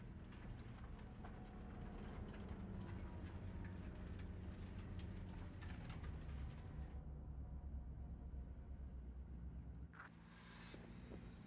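Train rumbling in the video game Cyberpunk 2077, a continuous heavy mechanical roar with rattling that drops away near the end, leaving a brief burst of hiss; no talk.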